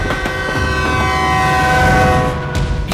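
Train passing close by with loud, sustained rumbling and a steady horn tone held throughout.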